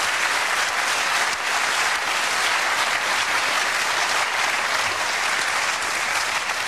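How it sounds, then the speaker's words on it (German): Stadium crowd cheering and applauding at the 2005 US Open tennis championship, a dense, loud, continuous roar of thousands of clapping hands and voices sustained without a break. "Das war der Jubel, US Open 2005."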